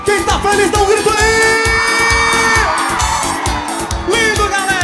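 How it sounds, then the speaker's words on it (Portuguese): Concert crowd at a live show shouting, whooping and cheering loudly, a dense continuous roar of many voices with music running beneath it. "Quem tá feliz dá um grito aí!"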